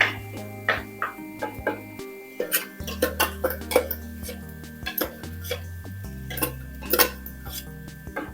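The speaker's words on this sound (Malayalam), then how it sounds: "പച്ച ഉള്ളി, ഇഞ്ചി, വെളുത്തുള്ളിയൊക്കെ ഇല്ലേ, അതിൻ്റെ ഒരു പച്ച മണം ഒന്ന് മാറി കിട്ടുന്നവഴം നമുക്ക് വഴറ്റിയെടുക്കാം." Onion, ginger and garlic sautéed in a pan for a drumstick and prawn masala, heard as a run of sharp metal spoon clinks and scrapes against the pan in an uneven rhythm, close and fairly quiet.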